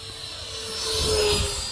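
A Freewing F-22 64mm EDF RC jet at half throttle gives a steady ducted-fan whine that swells briefly as it passes, heard outdoors without talk.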